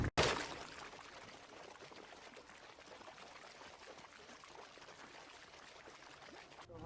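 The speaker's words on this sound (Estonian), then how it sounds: "siis tekib siia lodja sappa täiesti selline mudavee mullivand" Muddy water churning and bubbling in the wake behind a moving wooden barge on a lake, a continuous soft gushing and frothing wash, faint and steady after a brief louder splash at the start.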